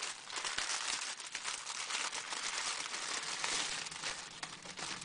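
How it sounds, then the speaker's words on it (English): Tissue paper crinkles and rustles up close for several seconds, a soft, continuous crackly handling sound with no one speaking. "let me just move out the tissue paper"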